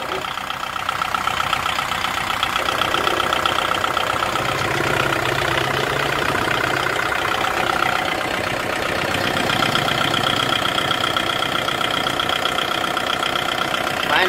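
A Kubota M6040S tractor engine idles close by with a steady, continuous diesel rumble and chug that holds even throughout, with no revving.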